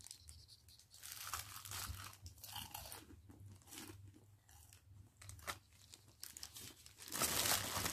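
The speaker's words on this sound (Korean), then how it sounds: "후라이드부터 먼저 먹어볼게요" Crispy fried chicken from a delivery order being bitten and chewed up close, with loud crackling crunches in irregular bursts and a louder burst of crunching near the end, no talking.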